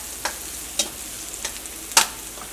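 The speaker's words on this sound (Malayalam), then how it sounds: "ഇതിലേക്ക് നമ്മൾ വേവിച്ച് വെച്ചേക്കണ ബീൻസ് ചേർക്കട്ടെ" Cooked beans stirred into a pan of hot oil with crushed dried red chilli and spices for a Kerala mezhukkupuratti, with four distinct scraping stirs over a faint, steady sizzle.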